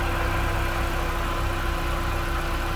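A 2004 Mini Cooper S with its 1.6 liter supercharged dual overhead cam inline four running steadily under the open hood, a constant close-up mechanical drone and whir without pauses.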